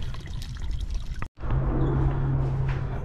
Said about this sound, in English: now I'm letting the water drain out of it